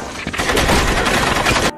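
Loud close gunfire erupts in a dense burst of rapid overlapping shots that crackle sharply for well over a second before cutting off abruptly.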